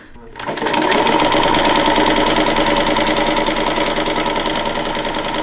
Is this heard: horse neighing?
no